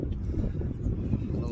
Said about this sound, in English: the wind's starting to get up a little bit now